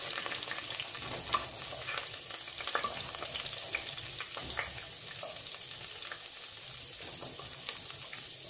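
A small piece of onion fries in hot oil with a steady, soft crackling sizzle and scattered pops, close by with no voices.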